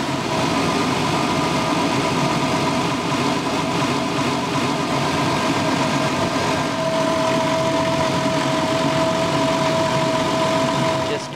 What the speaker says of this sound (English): next I will start my car